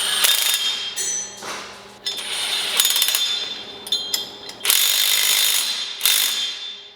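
Ratchet tightening the bolts on bolt-on traction bars, a series of close, loud clicking ratchet strokes in bursts with brief pauses between, no talking.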